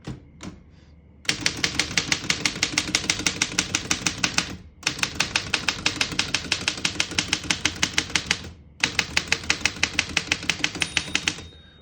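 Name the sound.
typing on a 1927 Underwood No. 5 vintage typewriter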